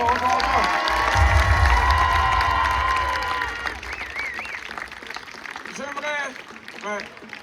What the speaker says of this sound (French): Est-ce qu'on peut les applaudir encore?